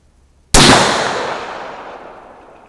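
A single loud, sharp shot from a Bear Creek Arsenal 5.56 bolt-action AR15 rifle with an Aero Precision barrel at a target range, a close crack with a long echoing decay and no speech.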